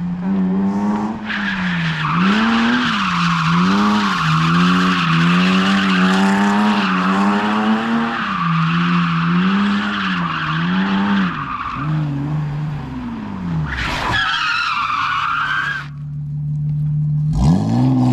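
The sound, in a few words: BMW E46 323 drifting, tires skidding and spinning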